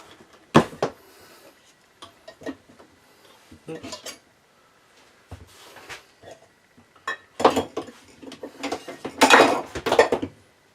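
Metal lid lifted off a distillation pot holding an oat mash, with sharp clanks, clinks and rattles in irregular bursts, loudest near the end, and a few quiet gaps between them.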